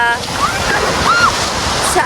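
Sea waves wash onto a beach in Bohol, a loud continuous surf rush mixed with wind buffeting the microphone, while people talk nearby.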